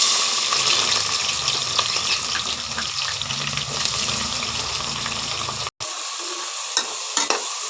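Chopped onions dropped into hot oil with spices for vegetable biryani hiss and sizzle in a steady, close crackle, with brief stirring scrapes and a momentary cut before the frying continues.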